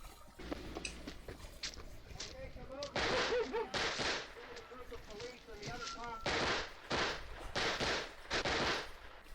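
Gunfire in the film Night of the Living Dead, repeated sharp shots in irregular bursts and volleys, loud and close, with voices talking between the blasts.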